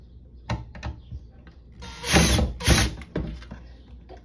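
A screw is worked loose from a hoverboard during a teardown: scattered close mechanical clicks and ratcheting ticks, with a louder grinding burst in the middle, and no talking.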